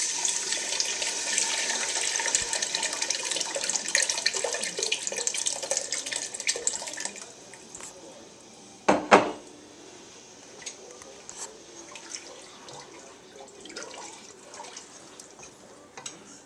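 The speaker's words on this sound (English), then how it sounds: "now we're going to add some of the liquid" Liquid pours steadily into a tamale mixture, a continuous splashing stream for several seconds that then stops, followed by a brief clatter and quieter handling noises.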